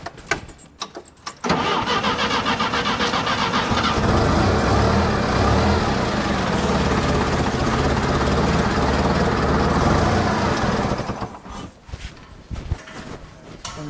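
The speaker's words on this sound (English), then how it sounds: "I'm going to start the forklift, raise it up a little bit." After a few faint knocks, a gas-powered forklift at an airport cranks and catches, then runs at a loud, steady idle for about ten seconds before shutting off, leaving scattered light clatter.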